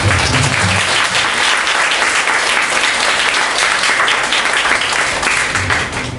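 Audience at an open-air mat concert gives a sustained round of applause for two performers, dense and steady clapping from a large crowd that holds evenly loud throughout.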